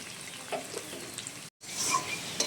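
Potatoes cooked with turmeric, salt and chili powder sizzle steadily in a pan, a dense, even crackle broken by a brief silent gap midway, with light scraping and clinks as they are stirred.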